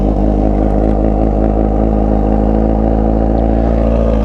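Kawasaki Z900 RS motorcycle idling while warming up on a cold morning, its stainless steel Atalla header and exhaust giving a loud, steady, deep rumbling burble close by, with no talk over it.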